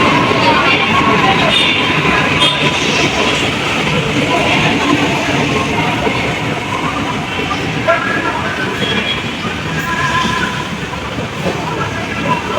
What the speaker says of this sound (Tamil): மெட்ரோ கிளம்புது பாருங்கள்.